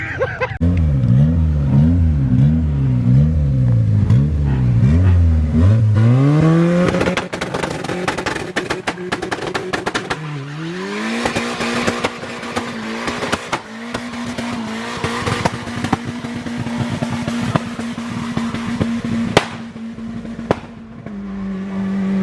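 A turbocharged car revs hard, its engine note climbing and falling in repeated pulls before settling into a sustained high-rpm scream as the tires spin in a smoky burnout, loud and close with tire squeal throughout.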